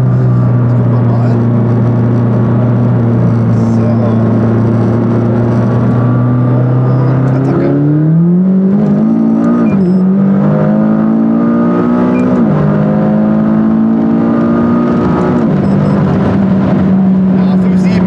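A McLaren 570S pulls hard in second gear on a 100–200 km/h run, its engine note holding steady and loud, then climbing in pitch with a brief dip and rising again as speed builds. Someone talks over the engine.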